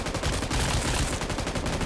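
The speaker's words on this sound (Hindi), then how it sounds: "उसके हाथ पे मैं काफी गोलियां बरसाता हूँ" Video game gunfire pours into an ancient guardian boss in a shooter, loud dense bursts of rapid shots rattling continuously with no pauses.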